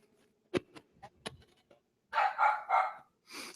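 Dogs bark nearby: a few sharp, separate yaps at first, then a quick run of louder, rougher barks, with a final bark at the end.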